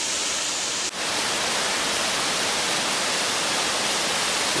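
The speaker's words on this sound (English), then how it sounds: "let's focus on the waterfall for a bit" A waterfall just off the Pacific Crest Trail roars nearby as a loud, steady rush of falling water, broken only by a tiny dip near the start.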